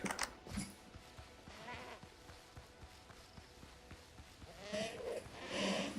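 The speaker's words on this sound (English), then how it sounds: "Oh, the nanny goat." Goats in the video game Windrose bleat several times over soft, regular footsteps, with wavering calls rising near the end amid game ambience.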